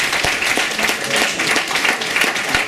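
Guests at a town hall golden, diamond and platinum wedding anniversary ceremony applauding a couple, dense close clapping filling the whole moment.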